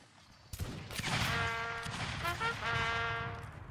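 Musket volley fire in Mount & Blade Warband Napoleonic Wars, a sharp crack followed by a ragged burst of overlapping shots and ringing tones, moderately distant and alone.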